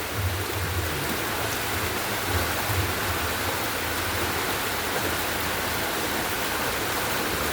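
Heavy rain and rushing water in St Thomas, a dense, steady roar of downpour and flowing runoff that stays loud and unbroken throughout, with no voices.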